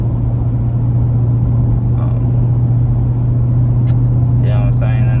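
A Jeep with a 5.7 Hemi engine drones steadily from inside the cabin while driving, a deep continuous rumble with a faint voice near the end.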